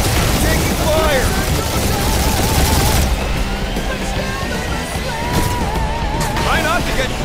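Gunfire and blasts during a space dogfight in the video game Guardians of the Galaxy, a dense continuous roar of shots and explosions with engine whines, loud throughout, under character voices.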